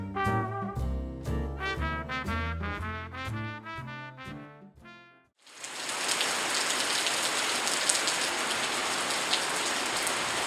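Monsoon rain in the Sharavathi Valley, a loud dense hiss of downpour starting abruptly about halfway through, following a stretch of tonal music.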